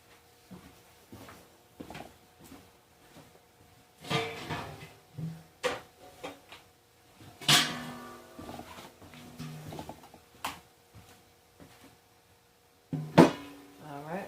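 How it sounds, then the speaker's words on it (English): A big pan comes out of a kitchen cupboard with a series of wooden knocks, clatters and metallic clanks in scattered bursts, some louder, broken by quiet pauses. "And now I'm going to get a pan."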